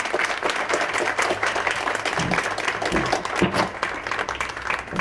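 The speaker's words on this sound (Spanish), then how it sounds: "Un fuerte aplauso para nuestra escritora de hoy, Elena Corbellini." An audience at a literary café event gives a warm round of applause for a writer, dense steady clapping from a modest crowd with a few individual claps standing out.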